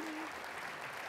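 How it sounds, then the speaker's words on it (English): Brief applause from an audience at a county State of the County address, a short, fairly quiet spatter of clapping heard from a distance. "you can applaud for Paul again if you want"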